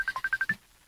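A cellphone rings in a short series of about six rapid electronic tone pulses, clear and fairly close, then cuts off into quiet.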